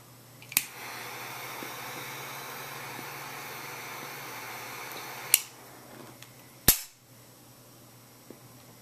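A lighter is flicked and a cigar is lit, a low hiss of flame running steadily under a few sharp clicks and snaps of the lighter, quiet and close with no talk.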